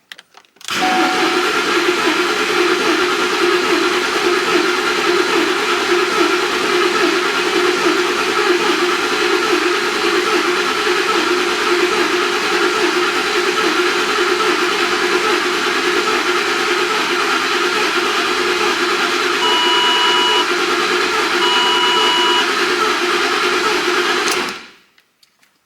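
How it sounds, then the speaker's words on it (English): The 5.4-litre Triton 3V V8 of a 2010 Ford Expedition cranks on the starter without firing, giving a steady whirring drone for about 24 seconds after a timing chain and cam phaser job, then stopping. "It's time to crank the engine and see if we build some oil pressure."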